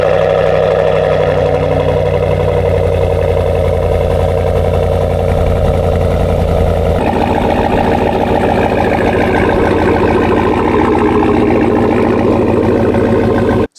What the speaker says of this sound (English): let's start it one last time with the S&B cold air intake and my Borla S-Type exhaust